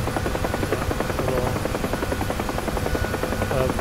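Engine whine and rotor chop of a Huey helicopter in a flight simulator video game: a loud, steady, dense drone with a rapid even pulse that runs unbroken throughout.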